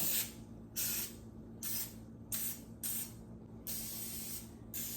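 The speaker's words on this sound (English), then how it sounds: "I'm just gonna get some olive oil spray real quick." Several short bursts of olive oil aerosol cooking spray hiss close by, separated by brief pauses, in an otherwise quiet room.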